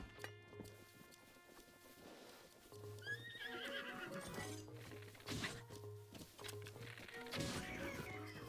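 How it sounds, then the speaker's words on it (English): A horse in Breath of the Wild whinnies in short rising bursts, with clip-clopping hooves and quiet game music and effects running under it. "Let's not hit the horse, shall we?"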